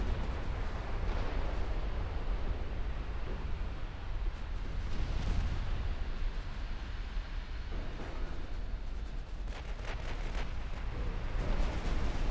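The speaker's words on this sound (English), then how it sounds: "Torpedoes are hitting." Torpedoes strike warships in a naval battle in the game Ultimate Admiral Dreadnoughts, with dull muffled blasts and rumbling booms rising repeatedly over a constant low battle roar.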